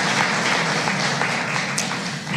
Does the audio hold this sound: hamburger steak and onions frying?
no